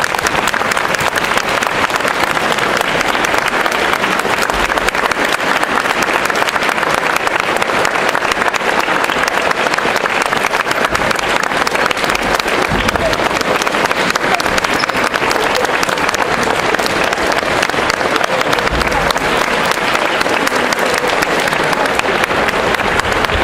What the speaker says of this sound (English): I'd like you guys to stand and applaud